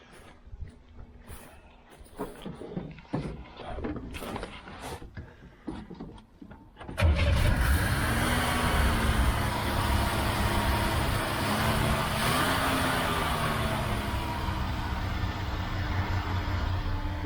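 A 1972 Chevy Nova's carbureted engine fed from a temporary gas tank sits quiet amid faint clinks and handling noise, then cranks and catches abruptly, settling into a steady, loud idle with small revs.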